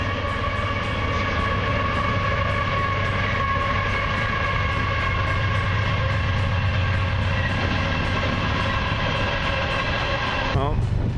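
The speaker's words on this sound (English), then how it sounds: "An empty coal train, what do you know?" An empty coal train rumbles steadily past nearby with continuous rolling and clanking, a loud sustained roar that cuts off abruptly near the end.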